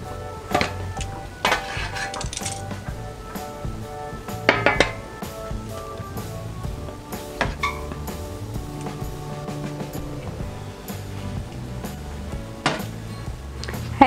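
Cooked suman moron rice cakes are lifted from a cooking pot after about thirty minutes of cooking, with scattered sharp clinks, taps and clatters of utensils and pot against a quiet background.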